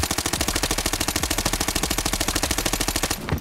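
MP5 submachine gun fired on a firing range in the game Arena Breakout: one steady, rapid automatic burst of evenly spaced shots lasting about three seconds, close and sharp, followed by a short rattling tail.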